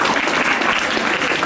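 Audience at a girls' government high school event clapping together to congratulate a couple on their wedding anniversary, a dense, steady burst of applause close by that fills the whole moment.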